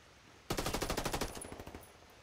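Rapid automatic gunfire in Ghost Recon Wildlands, a sudden burst of about fifteen close, loud shots in quick rhythm that trail off slightly toward the end.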